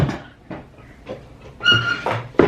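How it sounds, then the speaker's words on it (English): A squeaky drawer opens and closes in a few short bursts, with a high, drawn-out squeal near the end, close by and fairly loud with no speech. "the squeaky drawer"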